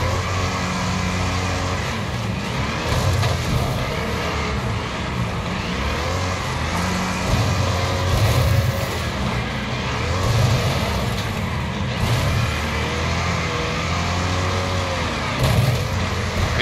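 Big rig semi trucks roaring and smashing through a demolition derby in Wreckfest's Thunderbowl, a steady loud engine drone with repeated heavy crash bursts throughout.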